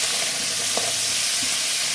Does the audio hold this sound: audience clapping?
no